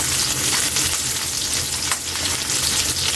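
Onion and garlic fry in a hot pan with a steady, dense sizzle that holds evenly throughout, close and fairly loud, with no talking.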